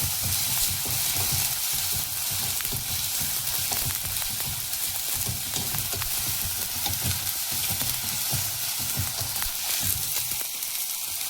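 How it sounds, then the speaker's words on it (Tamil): Tomatoes sautéing in a pan for ponnanganni keerai chutney, a loud, dense, unbroken hiss of frying that stays steady throughout, close up with faint stirring beneath and no talk. "இப்போ தக்காளி நல்லா வதங்கிடுச்சு."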